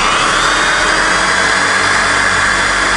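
Power drill at full speed spinning a G-414 car generator converted to 12 V, a steady loud whining hum with high tonal bands, unbroken for the whole stretch with no talk.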